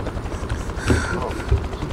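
Helicopter in a multiplayer shooter video game, a steady rotor drone running under the action with brief thumps and faint voices in the background.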